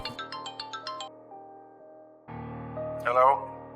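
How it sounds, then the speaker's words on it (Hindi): A mobile phone ringing with an incoming call from Masooma's husband: a short plucked chime melody repeats, then gives way to sustained tones with a brief swelling flourish, loud and clear. "मासूमा के शौहर का फोन।"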